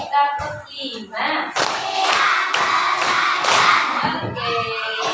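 A classroom group claps in a rhythmic counted pattern, bursts of dense clapping running through the middle with voices talking before and after.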